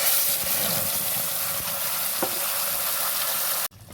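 Pointed gourd peel paste sizzles steadily and loudly in a hot kadai, a continuous frying hiss with faint stirring taps that cuts off abruptly just before the end.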